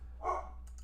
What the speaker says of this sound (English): Sorry, my dogs are in the background.